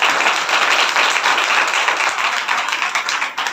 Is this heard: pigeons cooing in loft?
no